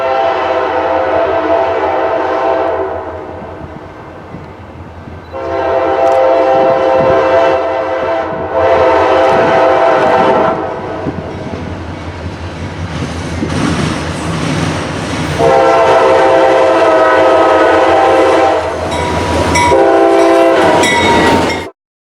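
A loud freight train rumbles past up close near Olustee, Florida, its horn blaring in long blasts with pauses between, wheels clattering on the rails underneath.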